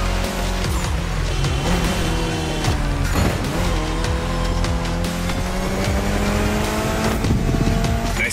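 A Mitsubishi Lancer Evolution races in The Crew Motorfest, its engine revving up and down through repeated gear changes, loud and close, with brief tire squeal and no talking.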